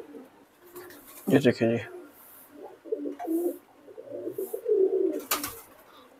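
Deep-coloured pigeons, red-eyed show birds, coo softly and repeatedly at close range, with a few wing flutters, while someone speaks briefly over them.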